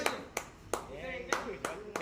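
Six sharp, separate hand claps at a child's birthday, spaced unevenly, close and loud, with voices talking or singing between them.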